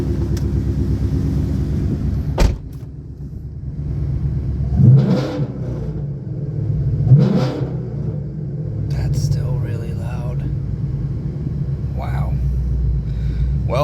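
A Ford Mustang fitted with a Timeslip axleback exhaust rumbles loudly at close range, a deep steady idle broken by a sharp crack and two swelling revs.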